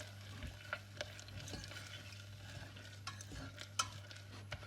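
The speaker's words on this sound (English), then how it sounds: "I'm going to keep stirring this. And it's just like glue." Thick, gluey agar mix stirred in a pan on the stove, with soft scraping strokes and small clicks over a low steady hum. The sound is quiet and close, with no talking.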